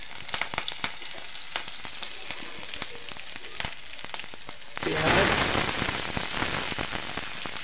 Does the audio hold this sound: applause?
no